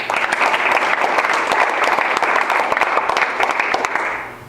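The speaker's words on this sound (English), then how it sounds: "Let's thank our silver sponsors." An audience at a chamber of commerce award luncheon applauds its sponsors with a full, even burst of clapping from many hands that fades out at the end.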